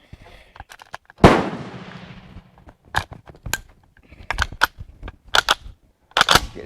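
Eight-shot string from an H&R M1 Garand rifle, loud sharp reports spaced irregularly after one big opening blast, with quieter clatter and handling noise between shots.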